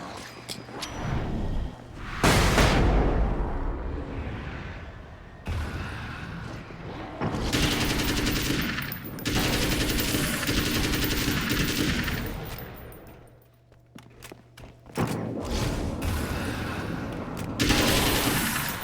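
Assault rifle gunfire in the video game Alan Wake's American Nightmare, loud bursts of automatic fire separated by short pauses, with dense rattling volleys dominating and game ambience between them.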